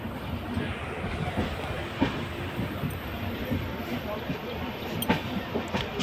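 Onboard the Padatik Express between New Jalpaiguri and New Alipurduar, a steady rolling rumble of wheels on rails with occasional clicks and knocks from the track joints, and voices in the background.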